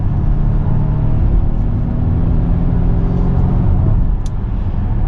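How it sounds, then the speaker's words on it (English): A 2020 Volvo XC90 Inscription SUV's engine rumbles steadily from inside the cabin, a loud continuous low drone with slight shifts in pitch as it accelerates through manually selected gears. "I do want to see what the acceleration is like with the manual shift in this"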